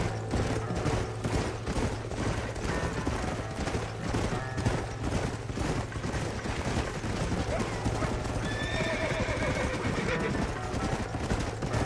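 Horses whinny and hooves clop over a dense, noisy background with other clatter. The sound is steady throughout.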